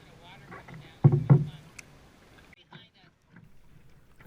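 A canoe paddled upriver in the Wabakimi wilderness: a couple of close, sharp paddle strokes and splashes in quiet surroundings, with faint voices and scattered small knocks.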